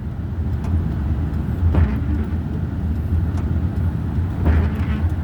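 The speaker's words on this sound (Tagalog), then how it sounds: "daming kotse, daming sasakyan" Busy road traffic in New Zealand, with many cars passing in a steady, loud roar of tyres and engines and occasional louder swells as vehicles go by close.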